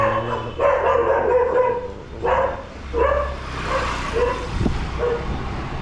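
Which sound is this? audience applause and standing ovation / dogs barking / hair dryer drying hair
dogs barking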